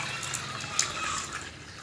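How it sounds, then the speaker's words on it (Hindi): Water pours into a sattu drink mixture, a soft close splashing trickle lasting under two seconds, faint and alone. "पानी डाल दिया इसमें।"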